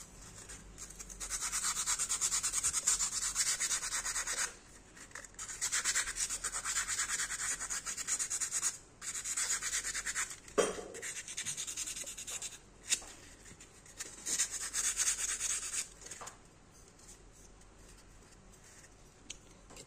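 Dry abrasive rubbing of P320 machine sandpaper worked by hand, a steady rasping scrape in bursts of several seconds separated by short pauses, close and alone with no talk.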